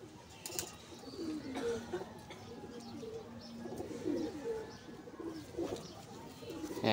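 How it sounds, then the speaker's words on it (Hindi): Pigeons kept by a fancier give soft, low rolling coos that repeat several times, fairly faint, with other bird chirps and some background murmur around them. "कबूतर चंगा है"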